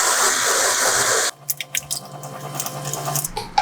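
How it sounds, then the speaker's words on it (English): Water pours steadily into vegan queso sauce for a second or so, then stops, followed by soft scattered drips, clinks and stirring sounds close by. "I'll need to add a little bit more water"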